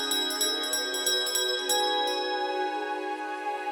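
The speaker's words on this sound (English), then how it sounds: "The sound of the bell has an effect on the freshmen, akin to a revive spell." A school bell in a fantasy video game rings with bright, sustained metallic chime tones that repeat in quick strikes at first, then ring out and linger steadily to the end.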